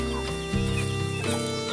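Free-range village chickens clucking as they are fed broken rice in the morning, a few close, soft clucks and low murmuring calls, with no talking.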